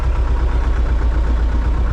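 A warmed-up Opel Zafira engine idles steadily, a close, even low rumble with no talk.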